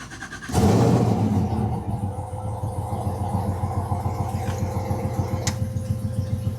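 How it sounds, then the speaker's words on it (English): A 1957 Chevy Bel Air V8 fires up with a sharp crank and catch, then settles into a loud, steady, lumpy idle with a rhythmic exhaust pulse, heard close with the exhaust cutouts open. "Another really neat feature about this car, we do this a lot, is the exhaust cutouts. I'll fire it up here and I'll show you quiet versus loud."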